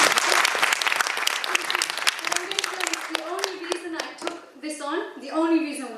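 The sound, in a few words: audience applause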